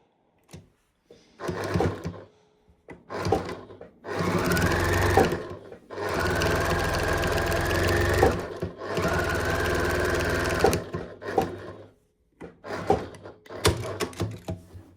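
A sewing machine stitches lines across fabric for reusable unpaper towels, buzzing in several close bursts of rapid stitching that run from brief to a few seconds long, with short pauses between them.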